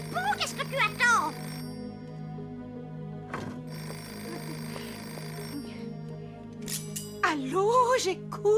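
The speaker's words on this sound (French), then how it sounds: "Le téléphone! Bah réponds, qu'est-ce que tu attends?" Telephone bell ringing in a French cartoon scene, repeated ring bursts heard over a steady musical background, with a voice speaking at the start and end.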